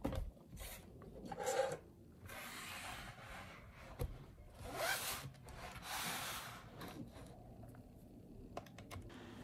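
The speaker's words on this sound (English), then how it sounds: "So with this little pry tool, we just remove the glue." Small pry tool scraping and rasping adhesive glue off the inside of an Acer Predator laptop, heard as irregular close scratchy bursts with short pauses, no talk.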